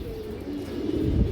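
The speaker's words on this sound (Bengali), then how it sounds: "এটা টুর্নামেন্টের কবুতর" Low, soft cooing of a tournament pigeon close by, a brief rolling coo that rises in loudness toward the end.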